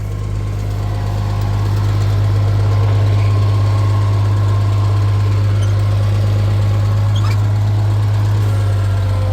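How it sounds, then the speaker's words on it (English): A tractor loader's engine runs at a steady, loud idle-like rumble while the loader is raised to clear a fence post in a pasture, with a constant low throb and no talking. "Have to raise my loader up to get past the post."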